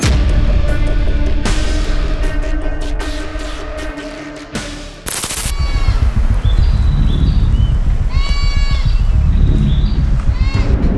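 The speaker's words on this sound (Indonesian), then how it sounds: "kok ada mbek juga?" A goat bleats repeatedly in a cartoon, loud, wavering cries over a busy animated soundtrack with a sharp break midway.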